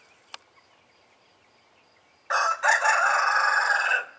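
A young rooster in a backyard pen of meat birds lets out one loud, close crow lasting nearly two seconds after a quiet stretch broken only by a faint click.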